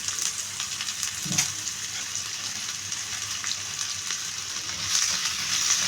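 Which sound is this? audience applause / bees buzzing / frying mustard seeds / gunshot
frying mustard seeds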